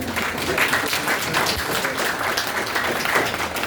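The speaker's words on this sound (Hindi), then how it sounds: "जोरदार तालियों के माध्यम से" Audience applause at a Hindi literary event honoring authors' works, a steady broadband wash of clapping lasting throughout at moderate loudness with no talk over it.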